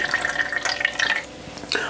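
Water overflowing from a tube while a wooden needlefish plug is made, trickling and dripping steadily up close, then easing as the flow slows.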